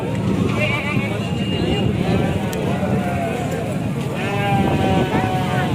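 A goat bleats at a busy livestock market in Lahore, several wavering cries rising over a constant crowd murmur and nearby talk.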